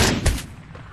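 Gunfire in PUBG, a single loud, close shot with a quick muffled tail fading out, with no voices over it.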